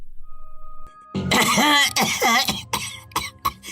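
A woman coughing harshly in a dramatized story, a quiet lead-in then a burst of several rough, strained coughs and throat-clearing bursts, close and loud, trailing into shorter hacks.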